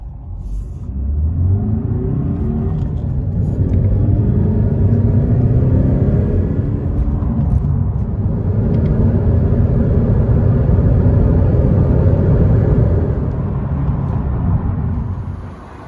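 A 2021 or 2020 Honda Civic accelerating hard from a standstill to 120 km/h while joining a motorway, its engine note a loud, steady rising rumble heard from inside the cabin, building continuously with no talk over it.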